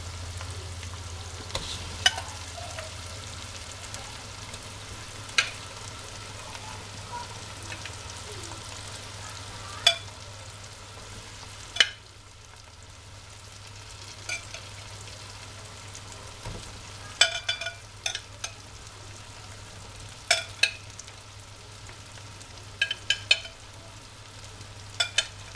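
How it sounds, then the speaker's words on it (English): Butter chicken pieces go one by one into gravy in a pan, with a low steady sizzle underneath and scattered soft clicks and clinks of utensil against pan. "I'm going to put this into the gravy. Okay. So I'm going to put in the pieces one by one"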